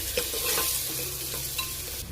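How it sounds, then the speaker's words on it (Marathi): Onion sautéing with cumin seeds in hot oil: a continuous crackling sizzle with scraping stirs near the start and again later, close and fairly loud. "तेल गरम झालेलं आहे जिरं टाकून घेऊया त्यानंतर ना कांदा टाकून घ्यायचा आहे कांदा असा छान परतून घ्यायचा आहे"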